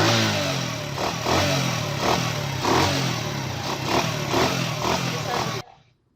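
A United 70cc motorcycle with a torn air filter boot runs close by, its steady engine drone broken by a regular, near once-per-second knocking clatter before it suddenly cuts off.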